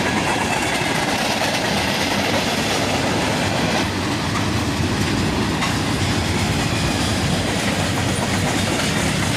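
Freight train including Herzog ballast cars rolling across a bridge, a dense close rumble with steady clickety-clack of wheels over rail joints.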